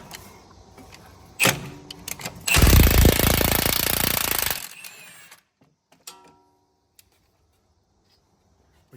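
A short tap, then a loud buzzing burst from a power wrench loosening front strut bolts on a Fiat for about two seconds, followed by quiet with a few faint clicks and rattles.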